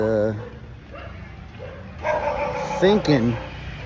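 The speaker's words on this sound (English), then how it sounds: "The cemetery and the barking dogs" Dogs barking and yipping near a small cemetery on Phu Quoc Island, several short barks and whimpering yelps at moderate distance, mixed with background voices.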